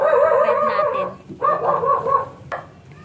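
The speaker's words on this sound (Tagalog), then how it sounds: "ang ingay ng mga aso ng kapitbahay" The neighbour's dogs bark nearby in a few short bursts of yapping and whining barks, fairly loud, with brief pauses between volleys and no voices present.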